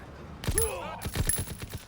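A burst of rapid gunfire in Call of Duty: WWII crackles with sharp repeated shots, mixed with a shout and a high electronic whine, loud and close.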